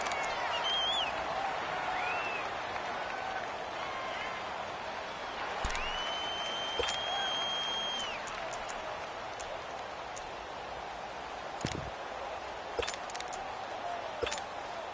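Stadium crowd noise from a PS4 video game football broadcast, a steady, faint roar of cheering under the game's ambience with a few sharp clicks and brief tones scattered through.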